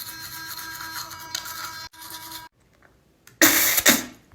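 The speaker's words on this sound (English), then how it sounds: "All done brushing my teeth." Toothbrush scrubbing with toothpaste in a morning bathroom routine: steady rough brushing noise for about two seconds, a short pause, a quieter stretch, then a louder, harsher burst of scrubbing near the end.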